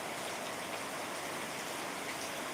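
Steady rain falls in a dense, even hiss that holds without a break for a couple of seconds, close and fairly loud, with no voices over it.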